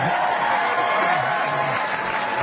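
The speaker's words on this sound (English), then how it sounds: "You took a little long on that clap now" Audience applause at a stand-up comedy show, a steady wash of clapping from a crowd that carries on without a break for the whole stretch.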